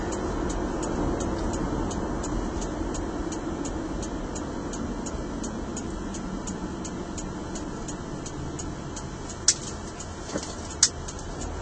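Steady road and engine noise from inside a car driving along North Houston Road in Warner Robins, with a constant hum throughout, a faint ticking, and a few sharp clicks near the end.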